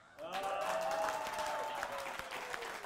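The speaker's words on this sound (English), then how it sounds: "let's give them both a big round of applause" An audience at a magic show claps in a full burst of applause that starts abruptly and holds steady for a few seconds, fairly distant and even, with faint crowd murmur mixed in.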